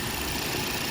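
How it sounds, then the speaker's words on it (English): Turbocharged four-cylinder GTI engine with a DSG gearbox, idling as a steady, even, broadband rumble with no changes in pitch or level. "It's a GTI engine with a DSG. What more can you say? Sounds like one."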